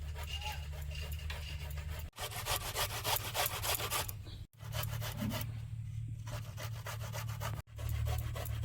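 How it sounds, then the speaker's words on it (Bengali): Fresh ginger being grated by hand for a cauliflower curry: close, steady rapid scraping strokes in three long runs separated by brief pauses. "ফুলকপি বাঁধাকপিতে আদা না দিলে ভালো লাগে না আদা করে নিই"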